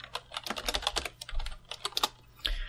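Rapid typing on a computer keyboard while coding an Android login screen: a close, dense run of sharp key clicks in quick, uneven bursts, with no talking.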